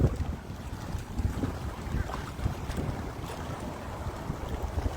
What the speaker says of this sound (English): if you want to attract the ability to just be quiet and listen to the waves